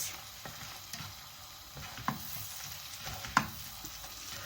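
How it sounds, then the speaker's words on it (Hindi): Almonds, pistachios and dried dates frying gently in oil over low heat, a soft steady sizzle with a few light clicks and stirring scrapes, quiet and close with no talking. "बादाम, पिस्ता और छुआरे, इनको हम फ्राई कर लेंगे।"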